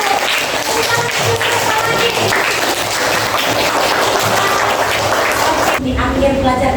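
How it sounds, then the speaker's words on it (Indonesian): Classroom clapping during a lesson on friendship, a loud, close burst of many small hands with some patterned rhythm, ending abruptly near the end as a voice carries on speaking. "tepuk tangan dulu"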